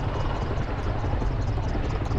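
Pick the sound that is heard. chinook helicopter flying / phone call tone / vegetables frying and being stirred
chinook helicopter flying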